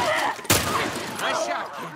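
A single sharp gunshot in The Last of Us Part I video game cracks out loudly once amid ongoing game ambience, with a voice speaking around it.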